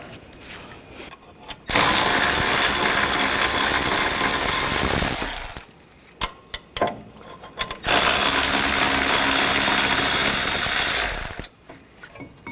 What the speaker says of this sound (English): I'm going to use a 18mm socket. We're going to take these two bolts out.